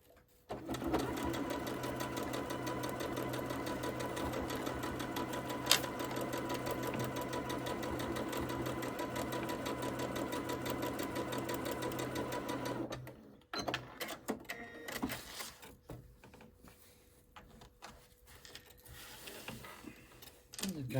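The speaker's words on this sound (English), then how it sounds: "So I'm now sewing these strips together." A sewing machine joins quilt strips for a toddler's quilt in one long, steady, rapid run of stitching, followed by quieter handling noises and some intermittent faint sounds.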